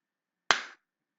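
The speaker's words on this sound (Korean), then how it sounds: "방금 살짝 박수를 치니까 거짓으로 됐죠?" One light hand clap, a single crisp close slap with a short fading tail, standing alone in otherwise near-total silence.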